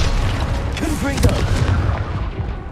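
A loud, booming Confringo spell explosion from Hogwarts Legacy erupts in the thick of a duel, its heavy low rumble mixed with shouted voices close by.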